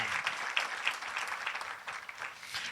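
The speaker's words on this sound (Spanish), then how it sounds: "Le podamos dar un aplauso a Jesús por eso esta mañana" Applause for Jesus during a Christian church service, a steady crowd of hands clapping at moderate distance with scattered sharper claps, no voices over it.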